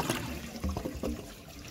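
A toilet flushing while objects are pushed through its trapway, heard close up as a brief rush and gurgle of water swirling down the bowl, fairly quiet.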